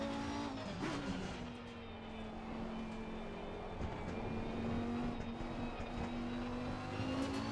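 Lamborghini Huracan EVO racing around the Hungaroring in a racing video game, a steady high-revving engine whine that rises and shifts pitch through gear changes, loud and continuous with faint tire noise.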